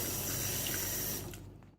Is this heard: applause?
no